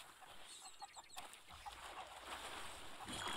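Soft, scattered clucking from several chickens in Sea of Thieves under a steady wash of ambient background noise, fairly quiet and continuous.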